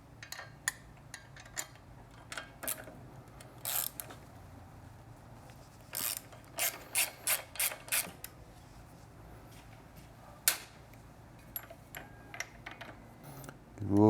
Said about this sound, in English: And then using our 6mm hex bit, 12mm wrench,